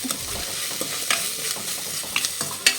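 Onions are stirred in a pan with a spice paste, a spoon scraping and knocking the bottom in repeated strokes over a steady low sizzle, close and alone.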